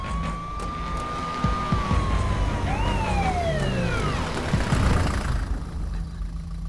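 An ambulance siren wails and sweeps up and down nearby, rising over an idling engine and street noise before fading.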